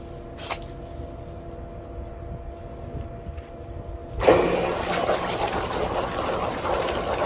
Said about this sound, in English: It's pumping the water straight up